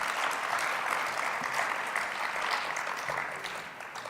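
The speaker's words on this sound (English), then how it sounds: "give our panelists a round of applause" Audience applause for the panelists at a technology panel, a dense steady clapping from a seated crowd that holds at an even level for the whole stretch and eases off slightly near the end.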